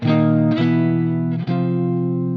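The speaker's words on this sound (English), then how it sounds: "So this is a JTM45 1965 script." Sustained electric guitar chords through a modeled 1965 Marshall JTM45 tube amp tone, ringing with light crunch; a few strums change the chord, played alone.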